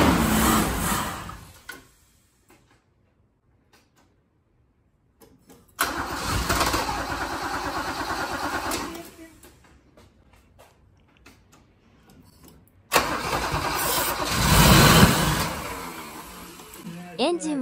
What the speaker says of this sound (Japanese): エンジンは一瞬かかるもののすぐにエストします